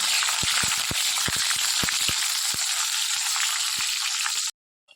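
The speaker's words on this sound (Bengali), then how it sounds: "প্রথমে আমি বড়িগুলো তেলের মধ্যে ভেজে নেব" Lentil dumplings (bori) fry in hot oil in a steady, crackling sizzle with sharp pops scattered through it. The sound holds for about four and a half seconds, then cuts off suddenly.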